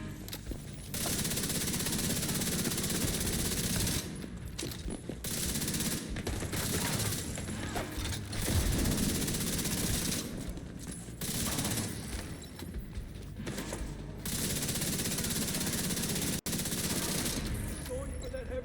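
Rapid bursts of automatic fire from the Chameleon rifle in The Division 2 come in long, loud volleys, broken by short pauses for reloads, with a voice talking now and then over the shooting.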